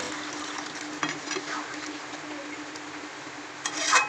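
Chicken kosha masala sizzles and crackles steadily in a pan, with a brief splash and hiss around the middle and a louder burst of sizzling near the end as water hits the hot masala.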